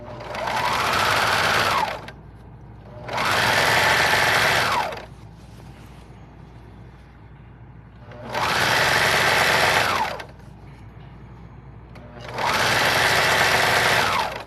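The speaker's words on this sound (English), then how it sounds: "My serger is old, and so it tends to want to skip at thick seams." An old serger overlocking the raw edges of a pillowcase runs in four separate bursts of close, loud, rapid whirring, each about two seconds long, with quiet pauses between them.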